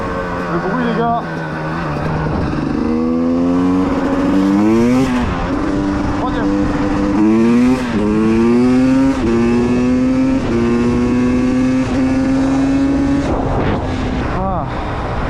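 A KTM 300 TPI dirt bike engine with stock exhaust revs up repeatedly in rising surges, each climb in pitch followed by a drop, loud and close, with a voice speaking briefly at times.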